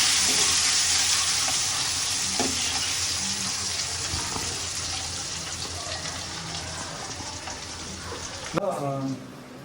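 Onions and masala frying in oil for an egg biryani, a dense steady sizzle with occasional stirring knocks that thins near the end as a voice briefly speaks.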